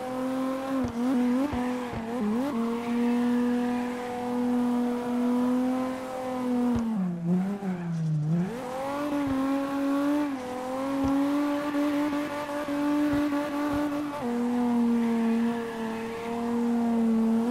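In CarX Drift Racing, a drifting car's engine holds a loud sustained roar with rising and falling revs, dipping briefly mid-way, with tire noise layered under the engine.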